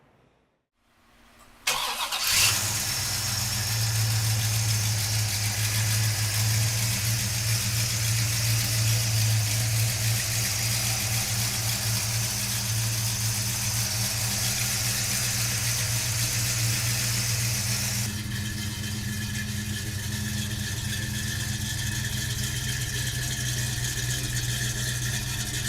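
A 1968 Pontiac GTO with a 400 cubic inch V8 cranks briefly, catches and roars to life, then settles into a loud, steady, rumbling idle close by, with a slight drop in revs partway through.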